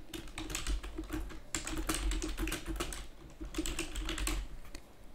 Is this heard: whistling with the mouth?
no